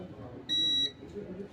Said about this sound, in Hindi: बीप साउंड आ रहा है